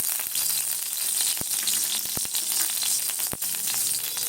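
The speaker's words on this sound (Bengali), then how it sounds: "এর মধ্যে দেবো কাজু কুচি, ঘিয়ের মধ্যে এগুলোকে একটু নাড়িয়ে দিচ্ছি" Chopped cashews sizzle in ghee in a wok, a constant close frying hiss with a few sharp clicks of a spatula against the pan as they are stirred.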